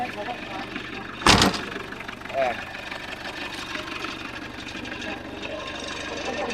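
A Mitsubishi L200 pickup engine turns over with a sharp burst, then settles into a steady, rumbling idle close by, with voices faintly in the background.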